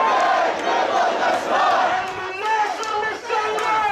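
A large crowd chants slogans in unison during a funeral procession in Bahrain, the massed voices loud and continuous with rising and falling rhythmic phrases throughout.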